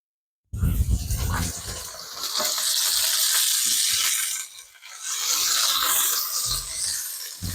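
Corned beef hash sizzles steadily in a frying pan over low heat, a bright crackling hiss that briefly dips before returning, with a few soft clicks and bumps.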